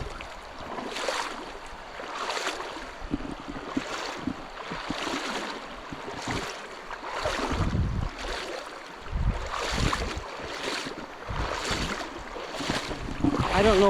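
Someone wearing shoes wades across a stream that is deeper than it looks, making a steady run of close sloshing, splashing strides over running water that grow heavier toward the end.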